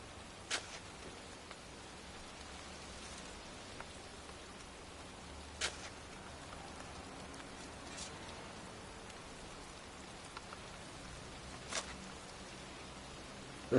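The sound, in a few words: rain in a video game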